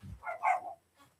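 A dog barks outdoors, one short bark followed by a fainter yip, fairly close and alone with no talking.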